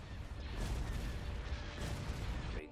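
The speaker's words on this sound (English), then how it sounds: "Opening fire on the torpedo launchers" Starship weapons fire in a Star Wars: Empire at War space battle, with turbolaser-style blasts and rumbling impacts layered into a continuous dense barrage that cuts off sharply near the end.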